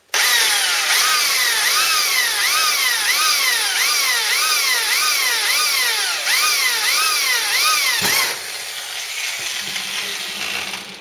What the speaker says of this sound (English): So I'll just put the pilot holes in